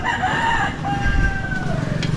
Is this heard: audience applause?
no